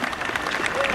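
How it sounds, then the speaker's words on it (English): Mercedes Formula 1 team members applaud in a brief burst of clapping at the 2021 Emilia Romagna Grand Prix, heard under a commentator's voice. "And here you can hear the applause from the Mercedes team."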